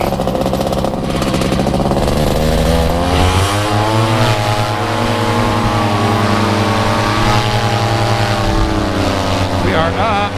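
A Tornado 280 XC paramotor engine runs loud and close, climbing steeply in pitch around the three-second mark and then holding a steady high-RPM roar, with wind buffeting and a voice speaking over it.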